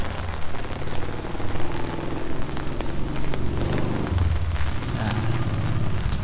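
Steady rain pours down, a loud continuous hiss of drops striking surfaces close by, with low rumbling underneath and no voices.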